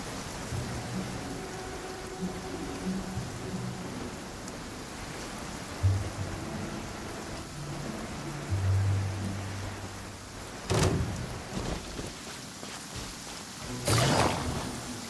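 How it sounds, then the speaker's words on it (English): Rain falls steadily in the video game Genshin Impact, a soft continuous hiss with low tonal music underneath and a few brief louder crackling bursts near the end. "It's raining again?"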